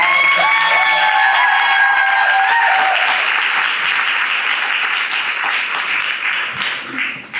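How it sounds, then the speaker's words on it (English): A crowd breaks into a loud round of applause at a boot camp event, mixed with cheers and whoops at the start, then eases into steady clapping that fades slightly toward the end. "can we give him a round of applause?"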